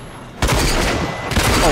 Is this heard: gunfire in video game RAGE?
yes